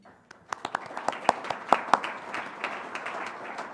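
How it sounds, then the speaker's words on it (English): Scattered clapping from a small audience at a community farewell program: a handful of sharp, separate claps that build into loose uneven applause, with low murmuring voices behind. "So give yourself a round of applause for that."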